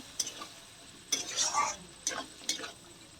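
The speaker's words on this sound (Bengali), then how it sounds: "নাড়তে থাকবে যাতে তলায় না লাগে।" Spice masala being stirred in a pan for a Bengali mutton dish, a few quick scraping strokes of a spoon against the metal over a low sizzle, close and fairly loud.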